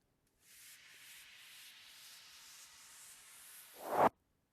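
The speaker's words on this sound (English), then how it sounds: "I added in these, which are a slow white noise build-up, and then sort of a reverse whooshing sound" A slow white-noise build-up in a hip-hop beat, a steady hissing wash that swells gradually for several seconds before a short reverse whoosh surges and cuts off abruptly.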